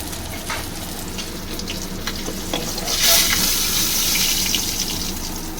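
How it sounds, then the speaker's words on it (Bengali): Koi fish frying in hot oil, a loud close sizzle with stirring scrapes that swells louder midway as the pieces are moved or lifted, no talk. "এই যে মাছগুলো ভাজা হচ্ছে হয়ে গেছে মাছটা তুলে নিই"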